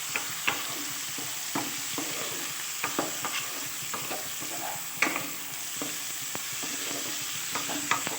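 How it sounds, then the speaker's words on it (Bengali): Vegetables and boiled peas stir-frying in ghee for mixed fried rice, a steady soft sizzle broken by scattered scrapes and clicks of stirring in the pan, close and alone without talk. "আর একটু ভেজে নিলেই ব্যাস হয়ে যাবে এটা"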